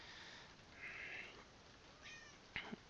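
A pet cat meows indoors, fairly faint, with a drawn-out meow followed by a couple of shorter calls and a sharp click near the end, against quiet room tone.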